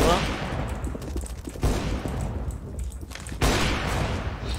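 Rapid gunfire in a video game rattles out in dense, loud bursts with a few heavier blasts, close and nearly continuous throughout.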